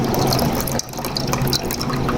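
Thin watery liquid drains out from under a pot lid as cream is cooked down into homemade desi ghee, a continuous close trickling pour with a brief dip partway through.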